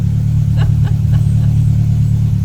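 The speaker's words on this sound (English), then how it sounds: "The car was coming, so we had to leave the safety of our tunnel." A car passes through a tunnel during rain, its engine a steady, loud low rumble that drones on throughout, with a few faint higher rattles layered over it.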